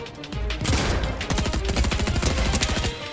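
Loud, rapid gunfire in an online shooter video game, with sharp cracks and bursts of automatic fire rattling continuously up close.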